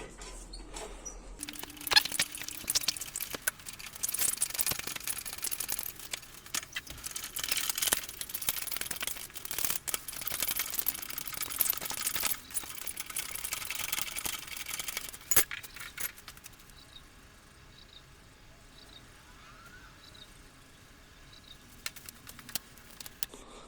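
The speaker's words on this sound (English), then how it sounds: "now we can start pumping with a handle" The handle of a cherry picker engine hoist's hydraulic jack is pumped during servicing. It gives a long run of small metallic clicks and rattles under a steady hiss, then the sound grows quieter and sparser toward the end, with no talk.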